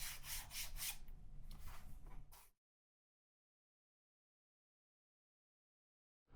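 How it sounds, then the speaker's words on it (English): Leather edges of a long wallet from a kit being sanded by hand, a close, steady rubbing scrape lasting about two and a half seconds before stopping abruptly into silence. "Now, I've sanded these edges down."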